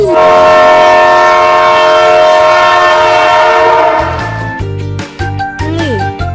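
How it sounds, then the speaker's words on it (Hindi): A train sounds a loud, sustained horn close by, then the horn fades as rhythmic clattering of passing wagons takes over. "रे से रेलगाड़ी।"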